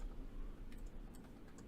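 Keys tapped on a computer keyboard while working in a chip layout editor, a few faint clicks over a low steady hum, with no talking.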